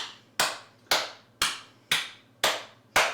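Six firm hand claps at an even, unhurried pace during a yoga routine, each one loud, close and dry with a short decay, and no voices between them.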